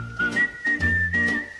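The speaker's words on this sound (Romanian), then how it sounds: "fluierând pe stradă" A person whistles a short melodic tune, a clear sustained tone wavering slightly in pitch, heard close over faint background sound.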